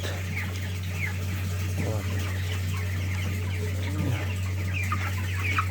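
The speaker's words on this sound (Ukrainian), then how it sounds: "І зараз ловимо курчат." Broiler chickens, Cobb 500 at 21 days old, clucking and squawking in agitated bursts as they are caught for weighing, with scuffling movement and a constant low electrical hum underneath.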